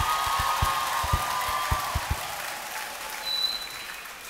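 Audience applause for choir students at a concert, a broad hall of clapping with a few close, sharp individual claps standing out early before the sound settles into an even patter.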